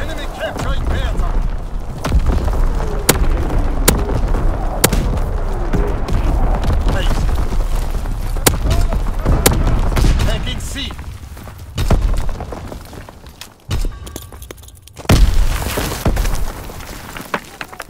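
Artillery barrage in a Call of Duty: WWII domination match, with sharp booms and thuds scattered through a busy mix of gunfire, game noise and radio-style voice callouts.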